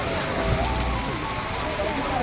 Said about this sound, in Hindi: बारिश और बर्फ़बारी दोनों साथ साथ।